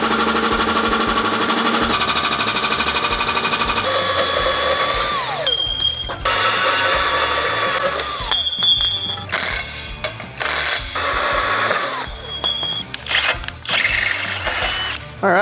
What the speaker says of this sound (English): we just drilled a couple of plug welds